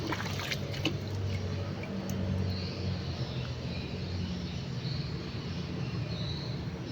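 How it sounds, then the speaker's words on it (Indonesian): Blackened water is poured evenly over old, previously planted garden soil, giving a continuous soft splashing trickle, with faint birdsong in the background. "Kita siramkan dengan sangat merata agar tanahnya ini benar-benar menjadi subur kembali teman-teman"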